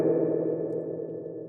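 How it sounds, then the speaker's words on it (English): A spring reverb effect gives a sustained, slightly metallic wash with a steady low hum and a bright ringing tone above it, continuous and fairly even in level, then fading slightly toward the end. "a spring reverb sounds"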